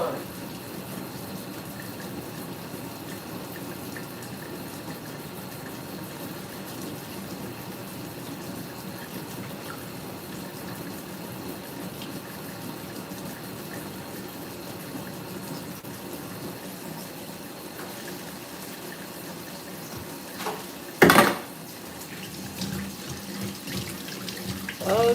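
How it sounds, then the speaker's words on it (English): A tap runs steadily for hand washing in a home kitchen, a low continuous water hiss throughout with a sharp clatter near the end. "Wash my hands."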